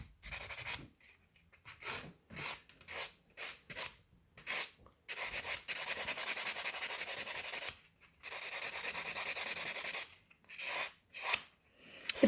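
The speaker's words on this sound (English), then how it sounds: "I like to use the white buffer to remove the biggest bulk of the product" A white nail buffer rubs back and forth over sculpted fiber gel nail extensions, making bursts of dry, rasping scrubbing strokes that stop and start in short runs, close up and fairly quiet, with no talking.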